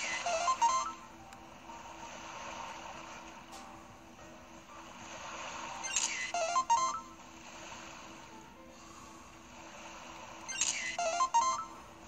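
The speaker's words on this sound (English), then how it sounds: "So I get a little notification on my PokeFinder thing." PokeFinder notification in the game Pokemon Ultra Sun: a bright repeating electronic chime sounds three times at roughly five-second intervals over a low steady hum, with no speech.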